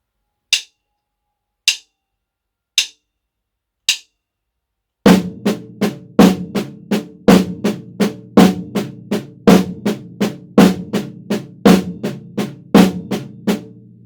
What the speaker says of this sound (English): we're going to start with the right hand accent and it sounds like this